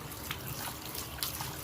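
Water from a hose rinses through a K&N air filter, making a steady, soft splashing trickle that runs the whole time, fairly faint and without voices.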